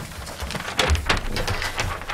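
Steady rain falling outdoors, a dense even hiss with a slightly louder patch near the middle, heard alone without talk.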